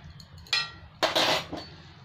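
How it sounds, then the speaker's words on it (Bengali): A metal lid is set onto a cooking pot of bottle gourd kofta curry, giving a light clink followed by a louder clattering settle and a final small tap, close and distinct with no talking. "এবার আমি ঢাকা দিলাম, গ্যাসটা বন্ধ করলাম"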